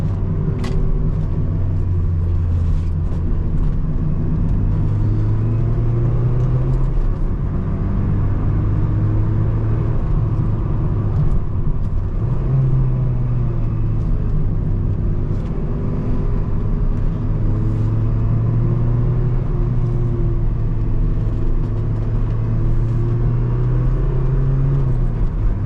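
A 2008 Mazda Miata NC hardtop with a manual gearbox is being driven, its engine a steady, close, droning rumble with gentle rises and falls in pitch over road noise, and no talking.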